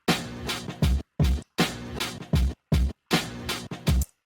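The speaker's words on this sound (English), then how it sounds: "I chopped out the drum break." Chopped drum break sampled from a soul song, with punchy kicks, snares and hats sequenced as individual hits in short repeating bursts separated by brief gaps of silence, loud and up close.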